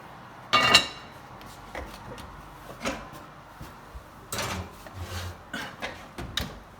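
A lid set back onto a pot holding sourdough dough in a banneton: a close, sharp clatter, then a series of quieter knocks and rubbing bumps spaced over several seconds, with no voices.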